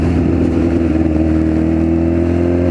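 A Honda Fireblade motorcycle engine drones loud and close while riding on the road, a steady throaty roar that holds its pitch for the whole short stretch without a break, with no voices over it.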